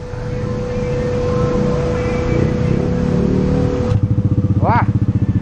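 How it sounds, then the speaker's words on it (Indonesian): A Yamaha Lexi scooter fitted with a custom exhaust idles with a steady drone, then a click is followed by a brief rising rev and a throbbing, pulsing exhaust note, close and loud. "sekarang kita dengar bunyinya kayak apa knalpot custom ini"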